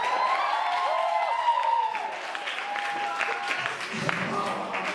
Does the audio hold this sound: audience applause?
yes